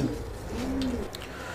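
An Andalusian house pigeon at a fancy pigeon farm gives a single close, low rolling coo, short and clear against mild background noise.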